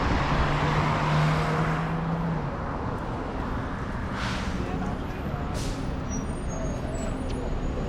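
A city bus with air brakes in downtown Los Angeles street traffic, heard as a loud, steady roadway roar close by, with a brief hiss and whine partway through.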